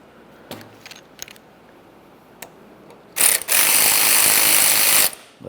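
A ratchet tightening bolts on a 2001-2005 Ford Explorer Sport Trac steering column, first a few scattered clicks and taps, then a loud, rapid continuous ratcheting run lasting nearly two seconds.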